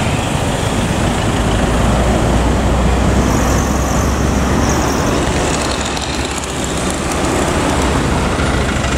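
An Evastar bus passes along the road at Muaro Takung, a loud, continuous roadway roar of engine and tyres that swells and eases slightly as it goes by.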